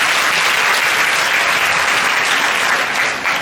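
Audience applause filling a seminar hall, dense and steady clapping from many hands throughout, loud and close, easing slightly near the end.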